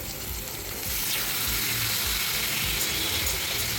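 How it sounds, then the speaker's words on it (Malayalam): Mushrooms dropped into a pan of frying tomato and ginger masala give a steady, loud sizzle with crackling that swells after the first second and holds without talk. "ഇനി കൂണിട്ട് കൊടുക്കാം."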